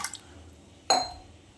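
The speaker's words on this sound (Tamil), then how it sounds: "ஒரு சொம்பு தண்ணி சேர்த்துக்கிறேன்" Water poured into washed millets in a cooking pot, a single short splash and gush rising suddenly partway through after quiet, with a faint drip-like tap at the start.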